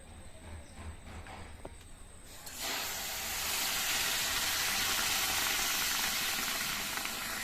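Water pours into a wok holding sugar for syrup, part of making khaja sweets. A quiet stretch gives way at about two and a half seconds to a loud, steady hissing rush that lasts to the end, with no talk.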